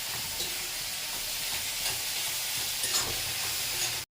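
Brinjal, onion and tomato sautéing in a kadai with a pinch of asafoetida: a dense, steady hiss of frying with faint intermittent stirring, cutting off abruptly at the end.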